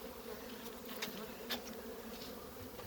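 Honey bees buzzing around the frames of a colony being rescued after winter, a dense continuous hum close by with a few louder passes from individual bees, no voices.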